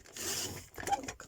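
A paper trimmer slices through paper, giving a short, close swishing cut followed by a brief rustle and scrape.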